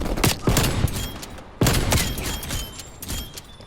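Fast, close gunfire in the Call of Duty Black Ops Cold War multiplayer video game: dense rapid bursts of shots run almost continuously, with a heavier crack at the midpoint and a clattering rattle throughout.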